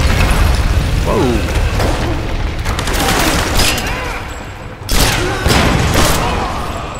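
Loud booming explosions and bursts of gunfire in Tomb Raider combat, heavy blasts landing in clusters over a constant roar, with a voice talking during the action.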